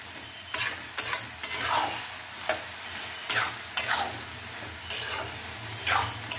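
Curry being stirred in a pan after sugar and salt go in, with a steady low sizzle under repeated scraping strokes of the spoon at irregular intervals, close up and with no talking.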